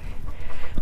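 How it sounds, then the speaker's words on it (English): Hens cluck in a coop, a short close burst of throaty clucking against a loud, muffled, rumbling background. "these chickens are looking for a way out of here"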